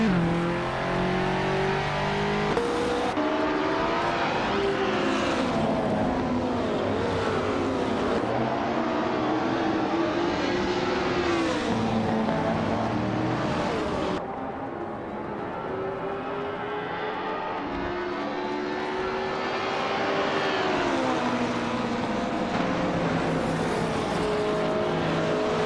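Vintage race cars, led by a 1972 Lola T290, roar through a racing video game, engines revving and shifting continuously with rising and falling pitch as cars pass, loud and sustained throughout.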